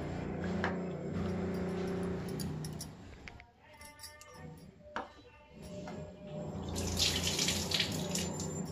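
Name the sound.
rinsing and soaking food in water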